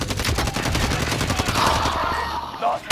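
Rapid gunfire in a battle royale video game, dense bursts of automatic shots firing close and loud in quick succession, with a brief pause near the end.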